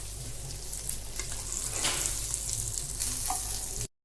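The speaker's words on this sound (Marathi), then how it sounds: "आता या पद्धतीने मी बाकीचे फिश पण छान असे फ्राय करून घेते।" Bangda mackerel fish fry in a pan with a steady, close crackling sizzle and occasional stirring or turning sounds, continuous until an abrupt cut at the end, no talking.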